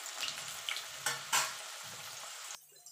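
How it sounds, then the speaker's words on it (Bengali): Potatoes sizzle steadily in hot oil for a Bengali cauliflower dish, with a few louder stirring bumps; the close, continuous frying noise cuts off abruptly near the end. "দিয়ে আলুটা লাল লাল করে আগে ভেজে নেব।"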